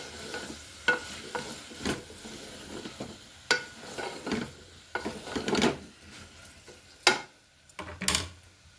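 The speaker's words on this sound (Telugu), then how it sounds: "ఇవన్నీ పచ్చివాసన పోయే వరకు వేగించుకోవాలి." Ginger garlic paste and mixed vegetables fry in a pan for a moong dal vegetable kichidi, soft sizzling broken by repeated scraping stirs and light knocks of a spoon, close and fairly quiet.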